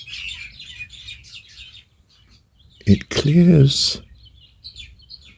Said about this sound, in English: I think they're blackbirds.